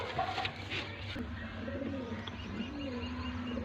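Golden teddy pigeons cooing, soft low coos repeating close by among faint chirps and room noise.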